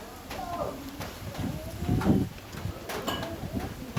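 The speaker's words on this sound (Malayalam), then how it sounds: "അവിടെ നിൽക്കുമ്പോൾ ഇങ്ങനെ പല പല കിളികൾ ഇങ്ങനെ കിളികളുടെ ശബ്ദവും എല്ലാം കേൾക്കാം" Several bird calls chirp and coo in the background at a Tamil Nadu temple, close to faint, mixed with outdoor rustling and a few thuds.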